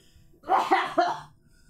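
A single harsh cough bursts out close by, breaking into two or three quick rasping pulses before fading to quiet.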